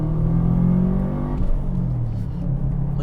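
Subaru Impreza WRX engine accelerating, a close, loud low rumbling drone with steady engine tones that dip briefly at a gear change and then climb again.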